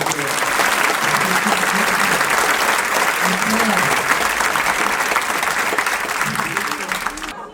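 Dense, loud applause from a live comedy show audience fills the room, a continuous roar of clapping with scattered voices that holds steady and then tails off at the end.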